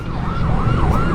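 An ambulance siren sweeps up and down in a steady wail over loud traffic and engine rumble.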